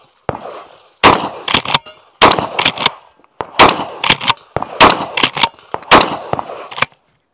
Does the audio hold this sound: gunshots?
yes